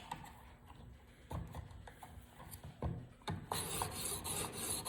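A knife edge is worked on a finer stone in a TSPROF sharpener, giving soft scraping strokes that come in separate passes and grow to a steadier, brighter rasp toward the end.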